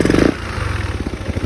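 Honda Ruckus scooter fitted with a Yamaha Majesty 400 engine running with a replacement air filter, a steady close engine drone after a brief louder burst at the start.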